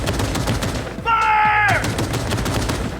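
Gunfire in the video game Cyberpunk 2077, sounding as a dense stream of rapid shots over a steady background of game noise and music, with one louder burst in the middle of the stretch.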